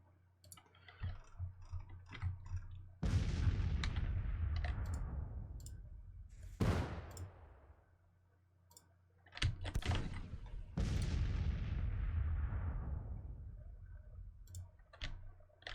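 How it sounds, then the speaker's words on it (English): Napoleon cannons firing a bombardment in the American Civil War strategy game Grand Tactician: Civil War, heard as several loud booms with long rumbling tails, mixed with scattered sharp clicks and distant pops. "we're gonna use the Napoleons to bombard"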